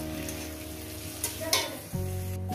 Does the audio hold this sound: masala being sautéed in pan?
yes